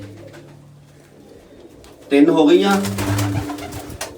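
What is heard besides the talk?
pigeons cooing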